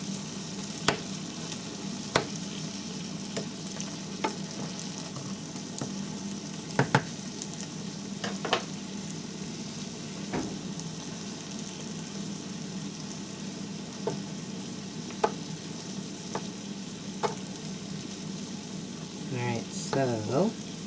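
Shrimp fry in a pan with a steady, close sizzle, broken by sharp clicks and taps from a utensil and a brief scraping burst near the end.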